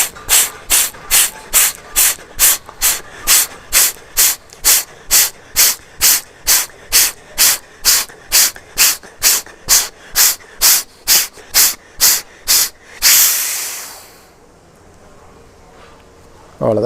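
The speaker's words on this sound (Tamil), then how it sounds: "மூக்கை நல்லா வச்சு அடைச்சிக்கிட்டு சட்டுன்னு காற்றை அடித்து வேகமாக சட்டுன்னு அடித்து" Forceful nasal exhalations during a yoga cleansing practice to clear mucus: about two dozen rapid, evenly spaced, loud, hissing blasts through the nose, ending in one longer, sustained rush of air.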